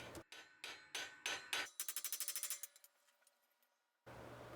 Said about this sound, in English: I'm just using a light hammer to define where I want that top rim to